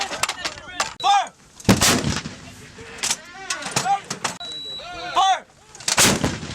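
An LM777A2 howitzer fires during a live-fire assault with U.S. Marines and Australian Army, several loud sharp blasts with echoing booms spread across the clip, while soldiers call out commands in between.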